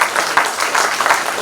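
An audience at an award ceremony claps steadily in a short, even burst, heard moderately loud from inside the hall.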